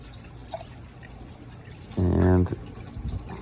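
Water pours briefly over a freshly processed backyard chicken carcass as it is rinsed, a short loud burst of running water after a stretch of quiet room noise.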